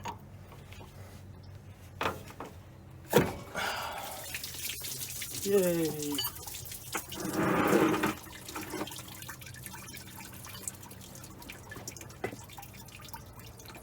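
Water drips and splashes from a removed Ford F100 water pump into a bucket below, in scattered irregular drops and a few louder splashes, with a brief voice exclaiming once.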